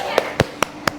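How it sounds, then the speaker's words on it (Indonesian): A classroom of students clap for classmates after a role play, four sharp separate claps about a quarter second apart, close and fairly crisp, with faint room murmur behind. "tepuk tangan dulu untuk temannya."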